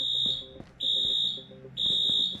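In the survival game Dead Matter, a triggered alarm blares in three long, loud, steady high-pitched tones separated by short gaps, over low in-game background rumble and clatter, with no talk.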